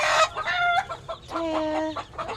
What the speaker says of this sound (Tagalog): Guys, see, there's so many chicken.